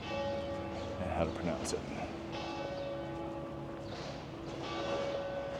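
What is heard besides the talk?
church bell ringing from a bell tower in Poitiers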